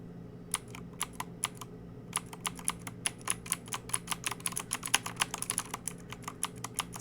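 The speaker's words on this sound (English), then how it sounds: "this is my Ducky Shine 5, my older keyboard I had for years. And these are Cherry MX Blues" A Ducky Shine 5 keyboard with Cherry MX Blue switches typed on up close, giving crisp, clicky keystrokes in irregular bursts that speed into a rapid flurry, heard on their own.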